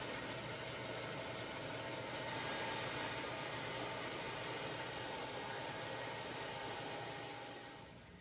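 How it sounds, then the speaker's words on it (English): A bandsaw trimming MDF gives a steady whirring drone with a high whine, rising slightly midway as the blade cuts, then easing off at the end, with no talking. "I glued those onto some MDF and just trimming them with the bandsaw."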